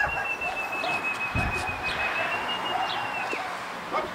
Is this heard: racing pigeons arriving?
yes